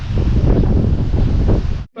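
Strong wind gusts roar steadily across a bleak, exposed spot in Rēzekne, Latvia, buffeting the microphone with loud rumbling noise for nearly two seconds before cutting off abruptly.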